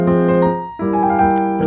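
A piano plays a brief passage from Beethoven's Piano Sonata No. 1, first movement, in a rewritten form: two sustained chords, the second struck after a short dip, close and resonant with no voices.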